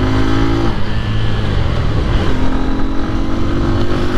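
A Bajaj N125 125cc commuter motorcycle accelerating hard from standstill toward 60 in a speed test, its engine note loud and close, rising in pitch through the gears with a brief dip at a shift.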